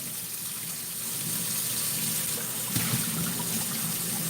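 Hot tap water runs steadily from a kitchen faucet to rinse out an item, a continuous close gushing hiss that swells slightly as the item fills.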